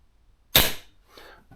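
A single-shot air pistol fitted with a pistol scope fires once, a sharp, close crack that decays quickly into quiet room tone.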